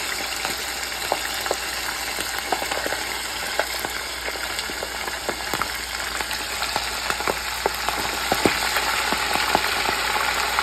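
Chicken fries in hot oil, a steady loud sizzle full of close crackles and spitting pops that keeps going without pause and swells slightly toward the end.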